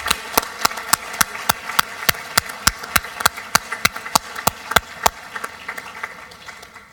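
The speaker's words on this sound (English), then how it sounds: "Let's give a warm round of applause to Ava." A small group claps for a youth human rights award recipient, sparse rhythmic hand claps in a fairly regular beat, close and distinct, tapering off near the end.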